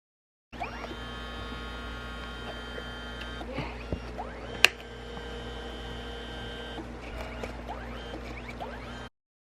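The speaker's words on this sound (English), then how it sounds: "Now you can also print any pictures from your phone onto this little mini printer, and it prints out just right on the side right here." A Kodak Mini Shot 3 Era mini printer hums steadily while feeding out a photo print, with a soft mechanical whir, faint clicks and one sharper tick midway.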